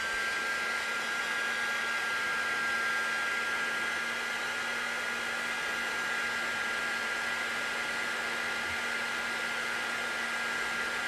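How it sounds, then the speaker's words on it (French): A heat gun blows steadily on a plastic hose, overheating it until the opaque tubing turns transparent; a loud, even hiss and whoosh of hot air runs unbroken and close for the whole stretch, with no talking. "je vais la faire chauffer de trop pour que vous voyez ce qu'il ne faut pas faire"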